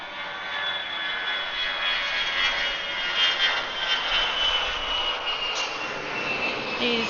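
A jet airplane departing Atlanta airport, a broad, steady engine roar heard from a distance that swells and fades gently, with no talk over it.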